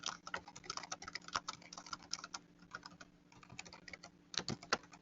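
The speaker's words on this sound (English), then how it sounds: "highlight some text or an image and then you can type a message there" Rapid keystrokes on a computer keyboard as a comment is typed into a Google Docs document, a quick, irregular stream of light clicks that slows briefly mid-way, then a few heavier taps near the end; close and quiet, no talking.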